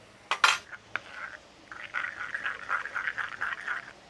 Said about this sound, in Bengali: দই নিয়েছি, দইটাকে আমি ভালোভাবে একটু ফেটে নিচ্ছি।